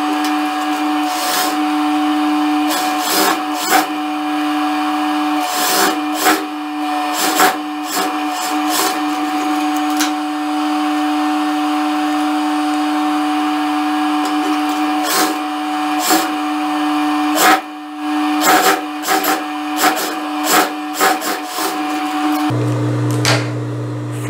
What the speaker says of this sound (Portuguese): agora eu trago aqui para a máquina, vou costurar já as duas cavas.